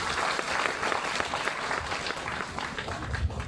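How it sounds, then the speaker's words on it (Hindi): Audience at a school sports meet closing ceremony clapping after a stage performance, a dense, steady round of applause from many hands throughout, with a faint low thump near the end. "बहुत सुंदर प्रस्तुति, जोरदार तालियां होनी चाहिए।"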